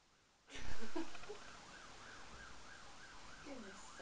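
An emergency vehicle siren wails in a steady rising and falling cycle, moderately distant, starting abruptly and continuing after a brief louder burst at the onset.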